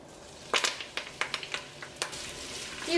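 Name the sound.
onion, ginger, green chilli, curry leaves frying in coconut oil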